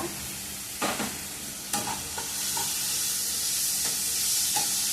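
Green chillies and tomato sizzle steadily in a hot oiled pan while a spoon stirs them, with several sharp scraping clacks against the pan over the continuous close frying hiss.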